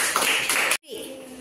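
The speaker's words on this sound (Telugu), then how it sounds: "Okay claps." Children applaud in a classroom, a dense burst of clapping from a group that cuts off abruptly, followed by a quieter room tone with a faint voice.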